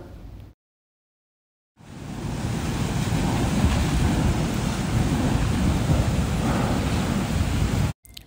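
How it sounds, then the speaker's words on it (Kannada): A steady, heavy roar of a Dubai thunderstorm fills the scene after a short silence, dense and continuous like a downpour with rumbling wind and thunder. "ಗುಡುಗು ಮಿಂಚು ಮಳೆ ಗಾಳಿ ಎಲ್ಲ ಶುರುವಾಯಿತು."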